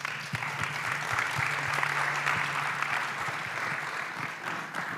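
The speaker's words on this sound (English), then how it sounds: "Big applause for our panelists." Steady applause from a conference audience for a panel at a blockchain developer event in Bogota, a dense, even wash of clapping filling the room for the full stretch with no voices breaking through.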